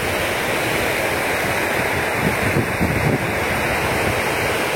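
Swift Progo River water rushing past an emergency dike, a steady, loud broadband roar of flowing water with no voices, constant throughout.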